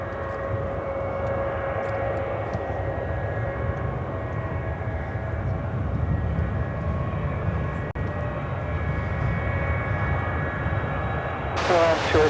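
An Emirates Boeing 777-300ER arriving from Dubai at Chicago O'Hare sends out a steady, moderate jet drone with a faint tonal whine, ending in a short burst of louder noise.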